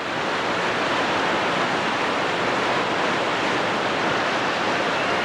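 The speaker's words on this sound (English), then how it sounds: "Up high in the rapid, we got Mike Mather working his way around" Whitewater rapids on the New River in West Virginia roar as a steady, dense rush of churning water, loud and continuous throughout with no voices.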